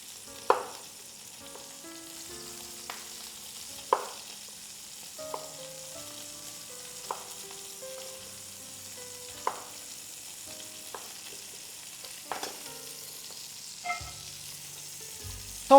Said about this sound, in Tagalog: magigisa-gisa lang ako ng konting carrots for the side